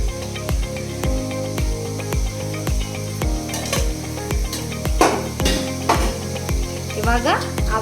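Onions frying lightly in a pan give a soft crackling sizzle beneath a loud, rhythmic clicking beat, with a few sharper scraping bursts from stirring.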